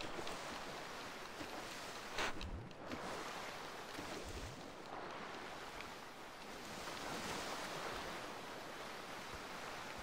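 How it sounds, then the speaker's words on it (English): Rushing river current in a video game, a steady broad wash of fast-flowing water with a few brief low splashes and thumps early on, moderately loud and continuous with no voices. "this current is way too fast. This, you cannot swim in this river"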